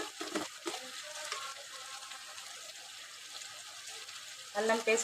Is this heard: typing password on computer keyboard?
no